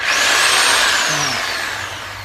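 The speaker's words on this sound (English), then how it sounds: "Show us what you're doing with this thing. Reciprocating saw." A reciprocating saw runs loud and close at a high, whining speed that sags and slows toward the end, used during storm-damage cleanup after Hurricane Matthew.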